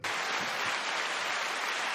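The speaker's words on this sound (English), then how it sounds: "That was a clap." A dense, broadband burst of clapping begins abruptly and holds steadily for about two seconds, sounding like many hands applauding together at moderate volume with no voices over it.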